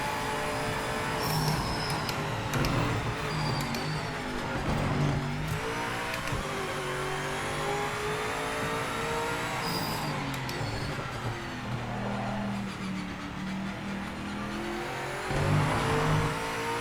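Race car in Project Motor Racing revs hard and shifts repeatedly during a traction control test, loud engine whine rising and dropping in pitch with brief tire squeals, close and continuous.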